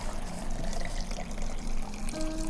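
Whiskey poured into a glass in the bar game Saloon Simulator, a steady liquid splashing and trickling sound lasting a couple of seconds, close and continuous.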